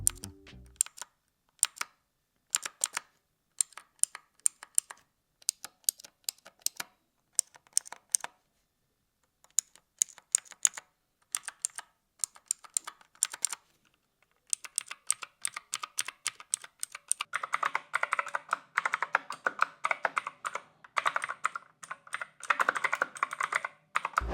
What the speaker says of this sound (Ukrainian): А тепер послухайте, як звучить клавіатура на синіх свічах.